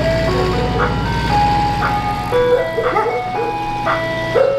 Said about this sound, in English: the ice cream truck's gonna be in a different spot now